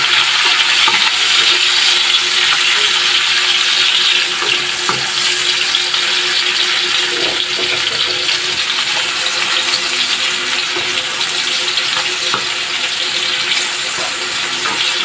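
Eggplant and tomatoes sauté in a hot pan with a loud, steady sizzle and crackle, broken by occasional clinks and scrapes of a utensil stirring.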